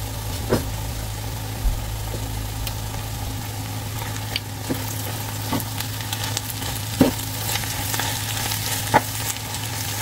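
Unsalted butter sizzles in a pan with chicken, giving a steady low frying hiss with a few soft clinks and stirring taps, no talk.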